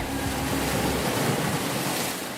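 Cartoon sea waves surge in a continuous, full rushing wash with a low rumble underneath, steady and loud with no voices.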